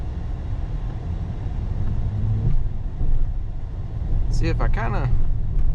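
A vehicle with an 8L90E automatic transmission shudders while driving, a steady low rumble and road drone inside the cab with brief vibration surges, and someone talks briefly near the end.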